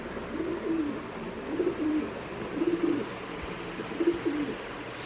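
Breeder pigeons in a loft cooing, four soft, low rolling coos spaced about a second apart, close and fairly quiet over a faint steady background hiss.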